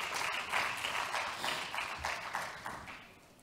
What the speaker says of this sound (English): Big applaud to him.